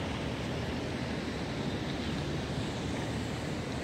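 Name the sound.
waves at Boqueirão beach, Praia Grande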